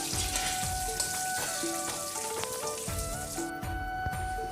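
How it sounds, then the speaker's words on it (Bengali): Pointed gourd frying in oil makes a soft, steady hiss with light crackles, overlaid by clear sustained tonal sounds, before the sizzle drops away near the end. "এবার পটলগুলোকে ভালো করে ভেজে নেবো।"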